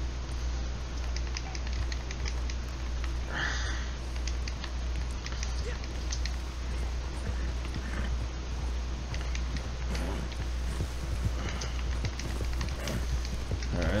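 A horse gallops in the Red Dead Online video game, rapid rhythmic hoofbeats that clop steadily without a break over a low background rumble, with a brief voice now and then.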